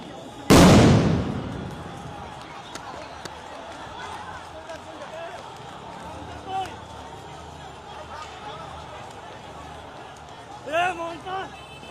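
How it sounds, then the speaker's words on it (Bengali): A police sound grenade bursts with one sudden, loud blast near the start during a protest at Shahbag, then a long noisy crowd ambience with distant shouting and scattered cries. "শাহবাগ চত্বরের ঠিক মাঝে আমরা লক্ষ্য করেছি একটি সাউন্ড গ্রেনেড ইতিমধ্যে নিক্ষেপ করেছে আইন শৃঙ্খলা রক্ষাকারী বাহিনী।"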